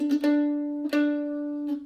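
Beginner bluegrass mandolin plays a short Angel Band phrase: picked notes ring out, a sustained tremolo passage follows, and a final downstroke closes it, close and clear with no talking.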